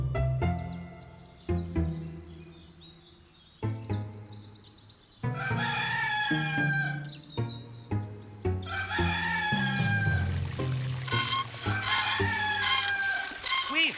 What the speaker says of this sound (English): We'll have Tacticus out of there before the cock crows.